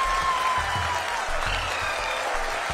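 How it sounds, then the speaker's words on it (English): Audience applause at an ISRO Chandrayaan-3 Vikram lander event: steady, dense clapping from a large crowd, with low thumps and a faint tonal hum running underneath throughout. "People are applauding."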